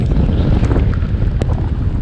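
Storm wind buffets a cyclist's microphone during a wet winter ride, a loud, continuous low rumble with gusty flutter and a few brief knocks, no voices.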